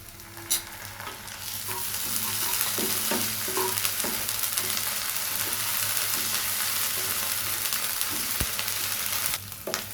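Ginger-garlic paste sizzling in hot oil with fried onions and bay leaf for a fish curry, a steady loud fry punctuated by scraping stirs of a spatula against the pan, continuous for about ten seconds.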